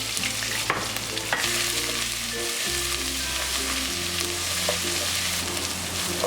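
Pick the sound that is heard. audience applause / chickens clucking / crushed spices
crushed spices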